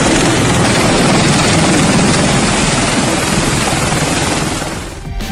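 A Bell Boeing tiltrotor aircraft roars loudly with a dense, steady rotor and engine noise that holds constant before easing slightly near the end.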